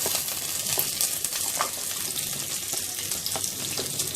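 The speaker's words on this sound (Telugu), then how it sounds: "పచ్చిమిరపకాయ ముక్కలను వేసుకొని వేయించుకోవాలి." Onion and green chili pieces frying in oil for drumstick dal, a loud, steady sizzling hiss close up with occasional sharper crackles and stirring scrapes, no talking.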